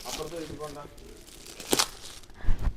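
Someone is unboxing housewarming gifts. A person talks at first, then brief crinkling and tearing of packaging follows in a couple of short, close bursts.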